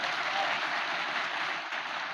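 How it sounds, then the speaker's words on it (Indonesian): An audience at an Indonesian religious talk gives a steady, dense burst of applause that continues evenly throughout. "Tepuk tangan untuk kompak."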